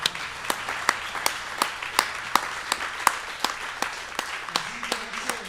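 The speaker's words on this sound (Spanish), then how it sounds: "Ahora sí vamos a rendir ese aplauso bien fuerte a Dios." A church congregation claps for God, a broad wash of applause underpinned by a steady rhythmic beat of sharp, loud claps roughly two per second, with faint voices mixed in.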